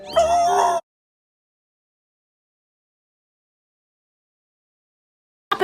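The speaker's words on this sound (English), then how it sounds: "That's one of Mitten's kittens" A single kitten, cold and out in the snow, gives one loud, clear meow at the start, followed by a long silence and the brief onset of another cry at the very end.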